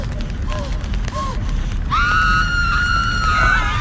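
A loud, sustained, high-pitched scream from a played foley clip rises sharply and holds for nearly two seconds after a noisy stretch of brief vocal yelps and commotion.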